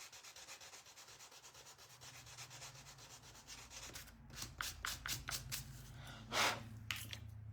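Wooden hutch being sanded by hand, close rhythmic rubbing strokes, steady at first, then quicker distinct back-and-forth passes with one heavier scrape, no talking.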